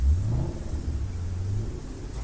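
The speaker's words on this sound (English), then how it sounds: "The car's rolling up." A car engine rumbles low and steady as the vehicle rolls up in a blues music video, a mid-pitched hum with a slight rev at the start and a brief bright accent near the end, no voices present.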